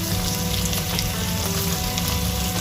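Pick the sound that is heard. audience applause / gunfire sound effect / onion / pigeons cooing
onion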